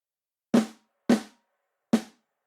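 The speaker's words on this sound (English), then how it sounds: "With the EQ, it sounds this way." Three separate hits from an EQ'd MIDI snare drum in the style of Addictive Drums, with a slight shelf cut, each a sharp crack followed by a short decaying tail and spaced at uneven intervals, heard alone.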